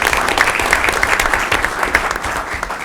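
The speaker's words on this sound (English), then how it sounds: "Let's still give him a round of applause." Applause at a PTSA board meeting fills the room with a loud, even wash of many hands clapping, continuous from start to finish.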